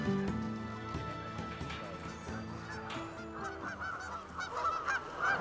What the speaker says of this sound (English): Mike attempts to photograph elusive trumpeter swans near the Crescent Lake National Wildlife Refuge.